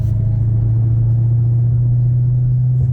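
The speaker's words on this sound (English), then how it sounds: "Hear that supercharger?" The supercharged engine of a Dodge Charger Hellcat Redeye Widebody idles close by with a deep, steady rumble, a low throbbing drone that holds constant throughout with no voices.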